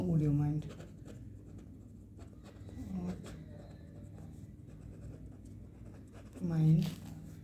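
Marker or chalk strokes scratch against a classroom board in short bursts during a grammar lesson, faint and intermittent beneath a teacher's steady talking.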